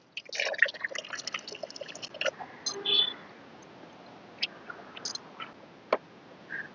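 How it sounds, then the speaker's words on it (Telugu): Small amounts of water are poured onto damp sand prepared for planting chrysanthemum cuttings, giving faint, sparse drips and splashes with short trickles, close by and quiet. "ఆల్రెడీ కొంత తడిగా ఉన్న ఇసుకే కదా అని కొద్దిగా నీళ్లు వేస్తున్నానండి"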